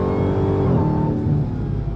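A 2023 Dodge Challenger Black Ghost driving in track mode gives a steady, loud engine drone from close by, holding a deep, even rumble with a slight rise in pitch.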